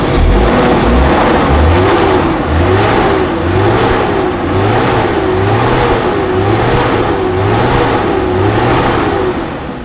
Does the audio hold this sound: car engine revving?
yes